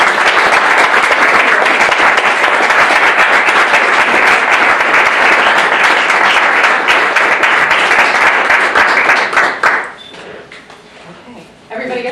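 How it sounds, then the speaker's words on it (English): Dense, loud applause from an awards ceremony audience honoring a group, steady for about ten seconds before it abruptly thins out into quieter room noise and a few scattered sounds. "How about we give this fantastic group a round of applause?"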